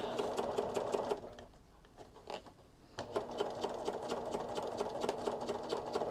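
A sewing machine stitches along a zipper pouch, running in a fast, steady motorized patter. It pauses briefly and then starts again, close and clear with no talking.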